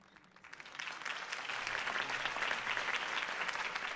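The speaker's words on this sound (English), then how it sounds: "could have heard that applause" A crowd bursts into applause, building quickly from a few claps into sustained, dense clapping that carries on steadily.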